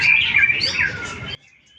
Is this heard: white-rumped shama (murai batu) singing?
yes